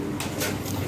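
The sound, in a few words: Lahori pigeon cooing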